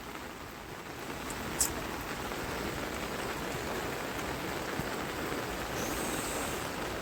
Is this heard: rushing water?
yes